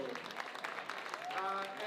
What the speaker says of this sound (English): And stop clapping